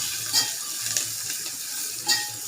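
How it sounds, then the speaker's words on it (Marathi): Green chillies and curry leaves fry in a hot pan with a bright steady sizzle, broken by a few louder spattering bursts and light scrapes of stirring, close by and without talk. "नंतर मिरची, कढीपत्ता, सगळं भाजून घ्यायचं."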